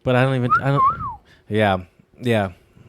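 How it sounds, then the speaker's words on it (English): A person whistles a short, rising and falling tone that slides clearly above surrounding conversation, close and loud between bursts of talk. "Pretty good whistle, actually."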